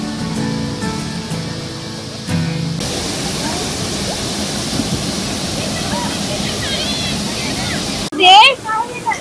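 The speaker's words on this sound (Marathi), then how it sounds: "त्या गावामध्ये हा धबधबा आहे" Crowded with visitors, the Ambeghar waterfall in Alibag taluka roars as a steady, dense rush of falling water. It fills the whole stretch, a voice briefly talks over it near the end, and faint music plays at the start.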